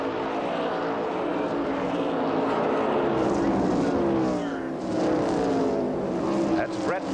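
NASCAR stock cars at the 1988 Motorcraft Quality Parts 500, engines roaring continuously as the field races around the track, with Elliott's car running unhealthy and a commentator talking over the noise.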